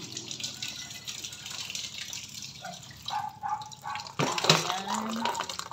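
Water runs from a household tap in a steady, close stream, with brief splashes and clatter partway through as something is moved under the flow.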